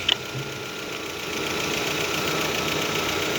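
An Opel Astra G idles after an oil top-up, a steady mid-pitched engine hum with a faint rhythmic knock, close and constant after a couple of small clicks at the start.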